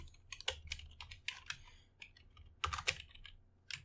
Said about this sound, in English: we can just type here enter any string you want